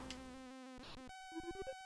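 A bee buzzes in the Commodore 64 game Greenhouse: a bright, synthetic chip-tune drone with stepped pitch changes and short warbling blips, clean and close, with no voices.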